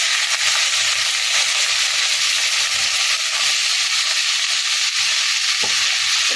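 Drained winter vegetables hit hot oil for a prawn chorchori and give off a loud, steady, hissing sizzle that holds evenly for several seconds up close, with no voices.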